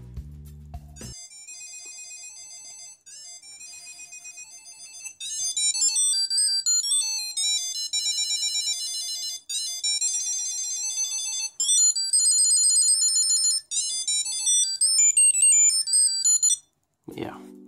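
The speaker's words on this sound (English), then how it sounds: "the tile will continue to ring until you find it on your phone" A Tile key finder's electronic ringtone chimes a repeating bright melody, looping loud and clear on its own for several seconds.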